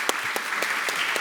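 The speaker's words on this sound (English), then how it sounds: "Please give a round of applause." Applause for a crypto regulation and banks panel, a steady wash of clapping with a few distinct claps standing out in a regular rhythm, fairly close and continuous through the brief moment.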